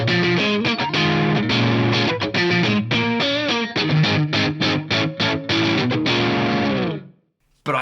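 A Stratocaster-style electric guitar played through a Marshall MGP 9004 preamp at a mid-gain setting, loud strummed chords and riffs with a crunchy, slightly chorused edge, ringing out and cut off near the end.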